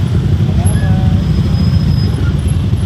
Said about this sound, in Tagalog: Grabe, traffic na to.